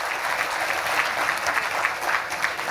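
An audience claps in a steady, dense round of applause at a motivational talk, sustained at even loudness throughout with no speech over it.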